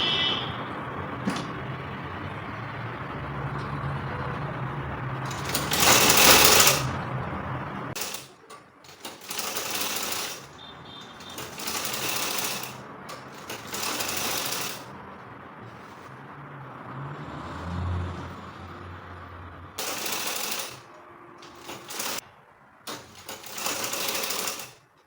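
A sewing machine runs in bursts while stitching bias piping onto the neckline of a triangular bubu dress top, whirring loudly with short stops and handling noises between runs.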